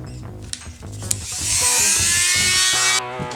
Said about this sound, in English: you can actually use the Dremel to make the first couple incisions